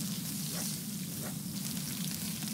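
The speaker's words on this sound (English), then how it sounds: "Gonna light the fire up. Get our fish cooking for our party." Fish cooking over a campfire in the survival game Stranded Deep gives a steady, even sizzle and crackle with faint pops, continuous throughout and without talking.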